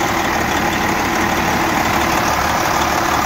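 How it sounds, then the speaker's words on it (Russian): A Scania V8 engine fitted in a Volvo VNL truck runs steadily up close, a loud, dense mechanical drone with a constant low knock and no pauses. "мотор работает нормально, друзья"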